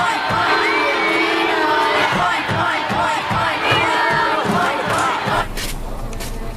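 A school crowd cheers loudly and continuously, with mocking chanting and shouted pig-like grunts pulsing low underneath, before the noise suddenly thins near the end.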